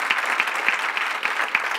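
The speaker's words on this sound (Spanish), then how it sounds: "Un aplauso al rey." Church congregation applauding during a sermon, a steady crackle of many hands clapping together at close range, fairly loud and even throughout with no talking over it.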